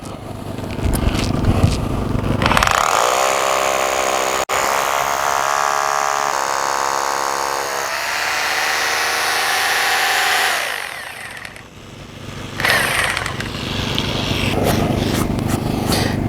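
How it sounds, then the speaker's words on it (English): A loud hammer drill in hammer mode pounds and grinds continuously into hard ground for a rebar hole, its pitch shifting as it bites deeper, pausing briefly before resuming. "Now I'm going to set this up on the hammer drill option"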